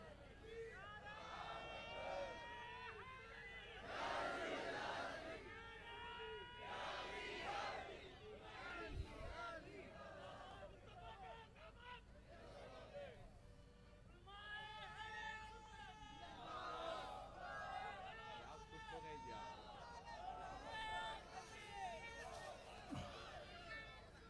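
A large crowd at a religious conference in Bijapur chants slogans in loud, surging bursts, mixed with an amplified speaker's voice and general crowd noise throughout.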